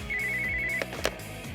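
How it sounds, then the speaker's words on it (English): A telephone ringing in an anime adaptation of the gambling manga Kaiji, a single steady electronic ring tone followed by a couple of short clicks, close and alone. "It was at this moment that Endo receives a phone call."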